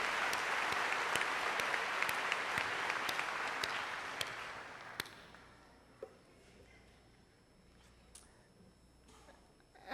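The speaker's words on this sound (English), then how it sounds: "Give them a round of applause." Audience applause at a high school commencement honoring magna cum laude graduates, a dense, steady clapping from a large crowd for about five seconds that fades to scattered claps and room quiet.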